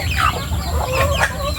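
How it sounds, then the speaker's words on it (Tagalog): Backyard pet chickens at feeding time give a short, close burst of busy clucking and throaty calls, several birds overlapping in a brief, lively flurry. "So time to pakain na naman ng ating mga alagang manok ngayon."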